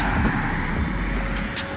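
An old 350 cc motor runs at a race: a steady, loud droning hum holds throughout with a faint pulsing edge and no talking.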